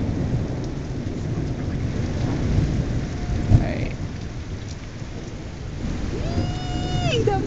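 Steady heavy rain during a Colorado lightning storm, with a sharp thunder crack midway and a rumble rising near the end; a voice briefly speaks.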